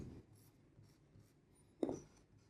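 Pen or chalk scratches quietly as a math solution is written out, with soft short strokes in an irregular rhythm and one louder scrape near the end, close and faint.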